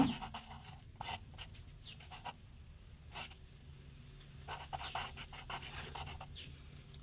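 Pen or chalk scratches steadily as a maths solution is written out, with quiet, intermittent rubbing strokes that come in short bursts and pauses, close and faint.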